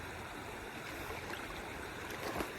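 River water runs steadily at a crossing where a motorbike could not get through, a constant broad rush with small gurgles and no voices.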